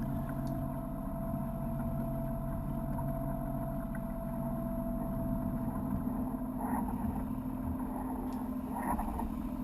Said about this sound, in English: there really wasn't any wind at all, so it's just a matter of motoring and motoring.